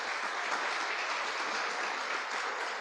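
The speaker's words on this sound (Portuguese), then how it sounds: "Um aplauso ao Senhor pela vida dela." Church congregation applauding during a worship service, a steady wash of many hands clapping at moderate distance, filling the whole moment without pause and with no talk over it.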